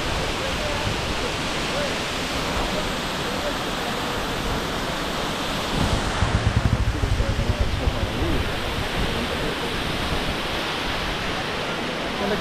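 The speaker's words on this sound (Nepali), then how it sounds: "ल अक्टोपस झरना" The Octopus waterfall on the Tilicho lake trek near Manang, Nepal, gives a steady, close, roaring rush of falling water that continues unbroken throughout. It swells slightly for a moment midway.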